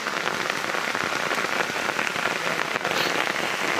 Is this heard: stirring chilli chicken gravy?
no